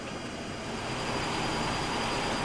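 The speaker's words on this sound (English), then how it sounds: "Set takeoff thrust" Jet engines of a Boeing 737 freighter run at takeoff thrust, heard from the cockpit as a loud, dense, steady roar with a faint high whine throughout.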